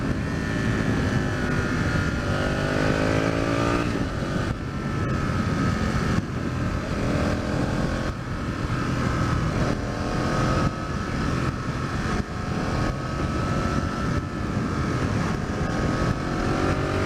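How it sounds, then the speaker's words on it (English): An Aprilia RSV Tuono Gen 1 motorcycle's exhaust roars while riding, rising and falling through the revs. Heavy wind rush buffets the microphone throughout. "But I love the sound of the exhaust there."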